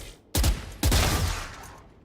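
Two sharp gunshot bursts in Valorant as a practice bot is shot, each a loud abrupt crack followed by a short decaying tail, the second about half a second after the first, with no talking.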